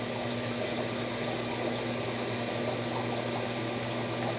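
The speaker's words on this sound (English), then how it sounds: "that pump goes on." Pump running in a screen-printing washout booth's environmental filtration unit, a steady hum with a tonal drone alongside rushing, splashing water that continues evenly throughout, with no talking.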